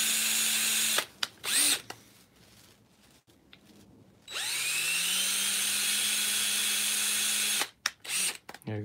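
A power drill whines in two sustained bursts, with short revving starts and a quiet pause between them, close and steady.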